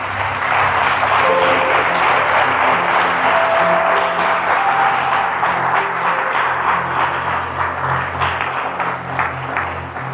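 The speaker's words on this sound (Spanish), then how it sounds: "Un aplauso al Señor." A church congregation applauds the Lord loudly and steadily for about ten seconds, a dense wash of clapping with some held musical tones underneath.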